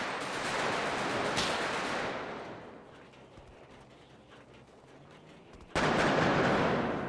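Sniper gunfire in GTA V roleplay: a heavy, loud blast of shots fades into a quieter stretch, then a second sharp, loud burst cuts in near the end. No one talks over it.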